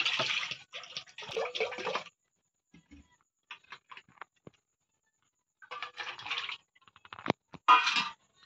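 Water splashes and swishes in short bursts with pauses between, like produce being rinsed in a basin, close by.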